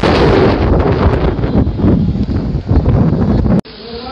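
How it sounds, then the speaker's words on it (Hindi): Strong storm wind buffets the microphone in loud, continuous roaring gusts, cutting off abruptly near the end into a quieter rush. "मौसम बड़ी तेज़ हवा भी चलनी है तूफान टाइप आए थे"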